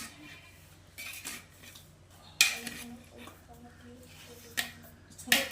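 A spoon stirring biryani in a pot, soft scraping and shuffling with a few sharp metal clinks against the rim, close by, under a low background hum and a quietly talking voice.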